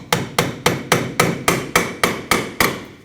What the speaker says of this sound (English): Might take a little bit of hammering to get it seated.